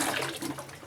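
Tap water runs steadily over fresh coriander and green chillies being rinsed for a pumpkin curry, a continuous close splashing wash lasting under a second.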